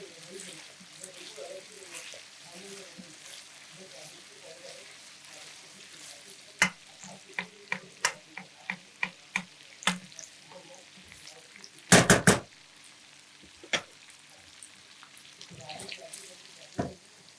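Chicken and garlic fry in a pan with a soft, steady sizzle, while a series of sharp metallic scrapes and clanks from stirring come in quick succession, with a cluster of louder clatters partway through and a voice talking faintly underneath.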